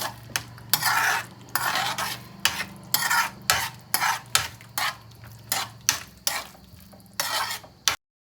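A utensil mashes and stirs pav bhaji in a pan, rhythmic scraping strokes repeating about twice a second, close and clear with a faint sizzle beneath.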